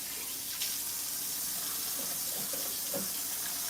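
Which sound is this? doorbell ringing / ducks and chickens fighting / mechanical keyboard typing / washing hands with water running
washing hands with water running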